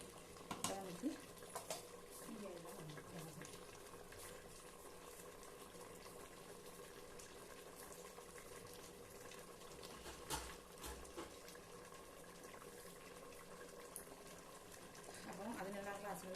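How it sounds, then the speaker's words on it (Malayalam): Boiling water, about five glasses, poured into a pot of chicken biryani whose chicken is three-quarters cooked, giving a steady rushing, bubbling wash that runs unbroken from start to finish. "അപ്പോൾ നമ്മൾ തിളച്ച വെള്ളമാണ് ഒഴിക്കുന്നത്."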